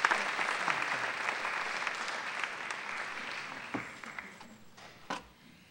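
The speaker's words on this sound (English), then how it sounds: "So applaud yourself because we all in." Steady applause from an audience at a gathering, fairly faint and distant, tapering off toward the end with a couple of louder isolated claps.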